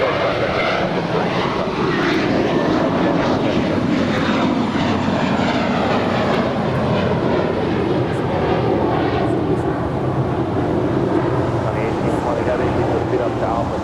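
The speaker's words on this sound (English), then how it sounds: "JetBlue Airways flight 2532 heading to Salt Lake City in an A320" A JetBlue Airways Airbus A320 jet airliner at LAX, heard as a loud, continuous engine roar and rushing whine that holds steady throughout, with a faint sweeping tonal shimmer in the background.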